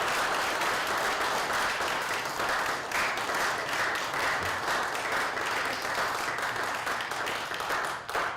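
A crowd claps and applauds steadily and loudly for the whole stretch, a dense, continuous wash of hands at an Alaska Day gathering.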